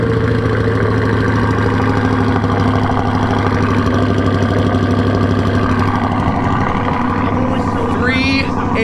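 A Chevrolet Corvette C8's engine runs at a steady, loud idle after a cold start, a constant deep drone that holds evenly throughout.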